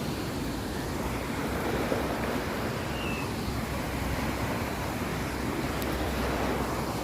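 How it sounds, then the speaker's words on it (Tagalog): Ocean waves wash steadily at a waterfall bay, a broad, continuous roar of surf mixed with wind rumble on the microphone, with no distinct breaks. "Scared with the waves?"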